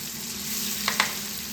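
Onion, garlic and chili paste fries in hot oil, making a steady, close sizzling hiss with two small clicks of utensil contact near the end.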